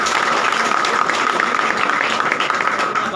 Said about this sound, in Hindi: आप लोग एक बार जोरदार ताली से स्वागत करें।